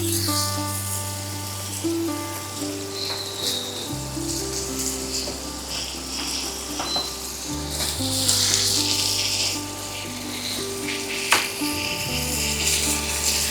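Chunks of mutton sizzle and crackle in hot oil as they are fried and stirred for a Bengali mutton kosha, a steady close frying hiss with occasional scrapes under soft background music.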